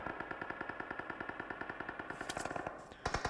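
Rapid automatic gunfire in PUBG Mobile rattles in a steady, fast burst of about twenty-five shots over three seconds, fairly close, with a few louder cracks at the end.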